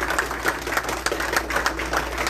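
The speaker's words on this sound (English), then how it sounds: "Let's give the Lord a clap off." A church congregation claps together in steady, dense rhythmic applause during a worship service, continuous and moderately loud throughout without any voice rising above it.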